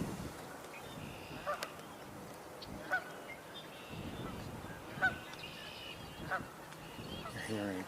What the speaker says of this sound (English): You're hearing a cannon goose right now.